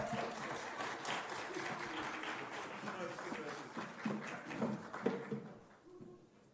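An audience at a pandemic management congress in Lisbon applauds a speaker, a steady crowd of clapping filling the room at moderate distance before fading out, with some voices mixed in.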